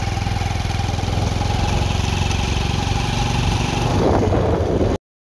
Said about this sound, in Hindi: अपने बाइक में चला रहा हूँ